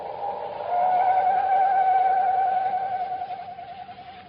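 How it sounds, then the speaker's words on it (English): An owl's mournful screech from an old radio adventure drama, heard as one sustained wavering cry that rises and holds steady for about four seconds, fairly loud and alone, with a slight tremble toward the end. "the mournful screech of the owl had a familiar sound to Chuck"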